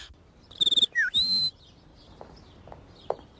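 The cartoon character Meg Griffin imitates bird calls, a short series of bright whistled chirps and trills up close, followed by a quiet stretch with faint clicks.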